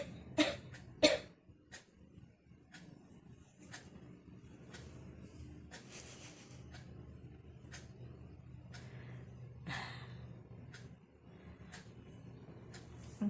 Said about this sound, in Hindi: तो उसका खांसी हुआ है और लेटी हुई है।